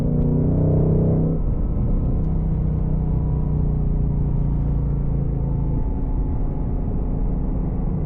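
Ford Mustang Dark Horse with a 6-speed manual droning steadily on a highway off-ramp, its rumbling note shifting once early and again near the end as the revs change.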